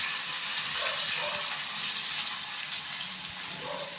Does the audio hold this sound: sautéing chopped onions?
yes